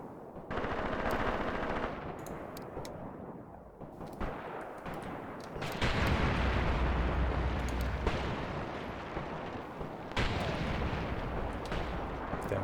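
An artillery gun fires during a night battle at a river bridgehead in the war game Graviteam Tactics. Heavy booms land in several separate clusters, mixed with rattling bursts of gunfire, loud and echoing.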